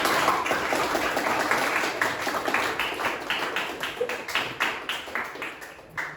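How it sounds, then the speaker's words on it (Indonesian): Schoolchildren in an Indonesian classroom clap for a group presentation, a dense burst of hand claps that thins into scattered, uneven claps and fades near the end. "Oke, beri tepuk tangan anak-anak."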